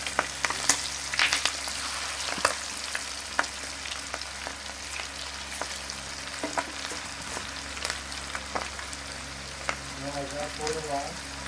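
Chicken pakodi pieces sizzle steadily in hot oil, with a constant frying hiss broken by sharp crackles and occasional clinks, close and moderately loud.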